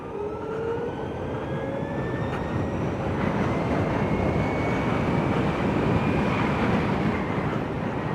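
An Ather 450X Gen 3 electric scooter ridden in its fastest mode, a rising motor whine that climbs in pitch over a loud, steady rush of road and wind noise.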